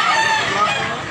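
Roosters and chickens in a Cabyara gamefowl yard, with a crow-like call running steadily through the clip at close range and no speech over it.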